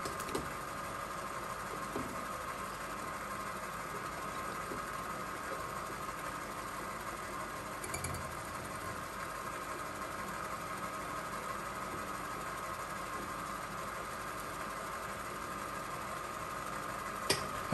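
Fly cutter with a SEKT insert taking a 0.75 mm cut across a large aluminium block held in a vise at 600 RPM, giving a steady, continuous machine hum and whir with no talk.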